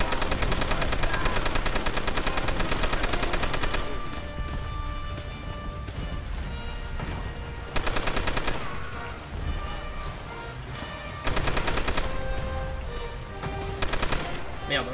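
Gunfire from a machine gun in the World War II shooter Call of Duty: World at War, with dense bursts of shots over a busy battle soundscape and loud full-band blasts recurring every few seconds.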